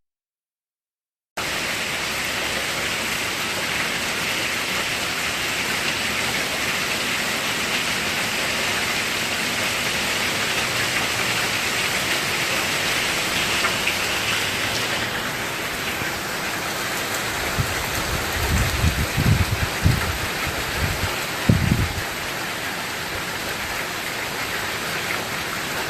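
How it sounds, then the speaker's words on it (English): Heavy rain from Hurricane Harvey in Houston pours as a dense, constant hiss for the whole stretch, with a few low thumps and rumbles near the end and no speech. "we're just going to sit here in this rain until something happens"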